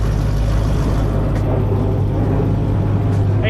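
An aggressive car engine idles loudly at a car meet with a deep, steady low rumble and a strong hum that holds throughout, close by and with no clear voices.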